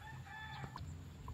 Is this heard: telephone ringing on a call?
no